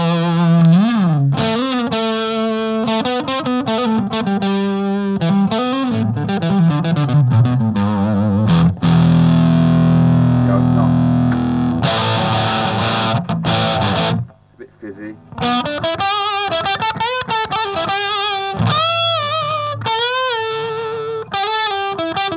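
An Alden Bluesline ZE electric guitar, a budget eBay instrument, plays chords and notes through heavy distortion, loud and sustained with a brief drop near the middle and no voices.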